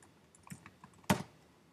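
Computer keyboard keys tapped in a short burst of separate clicks on a Mac computer, ending in one louder clack, close and alone with no voices.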